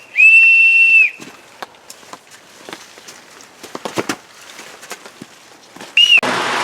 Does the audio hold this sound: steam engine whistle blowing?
yes